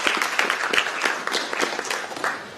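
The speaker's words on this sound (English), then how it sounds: "Can you give him a hand clap?" Hand clapping from a university audience welcoming a faculty dean, distinct individual claps standing out over a looser wash of applause, moderately loud and gently tapering.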